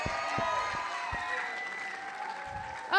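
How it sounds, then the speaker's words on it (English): Audience applause at a school variety show, a steady mass of clapping with a few louder individual claps, heard from the crowd for about three seconds. "Let's give one more round of applause."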